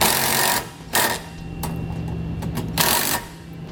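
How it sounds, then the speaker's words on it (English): Power drill driving two self-tapping screws into the mounting rods on a tow vehicle's base plate: loud whirring bursts with short pauses and a steady motor hum between them. "Then I'll take the 2 self-tapping screws and install them into the mounting rods on the base plate."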